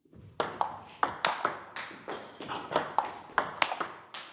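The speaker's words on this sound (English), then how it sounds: "That is a shot with more impact." Sharp table tennis ball hits struck with more impact than brush, ringing out in a steady rally, about a dozen crisp pings at a brisk, even rhythm, close and clear.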